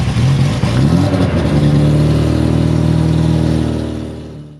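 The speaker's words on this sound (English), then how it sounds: "The engine has a very distinct sound to it," A loud car engine revs up close, a rising throaty roar that climbs through a few pulls before settling into a strong steady drone that fades slightly at the end.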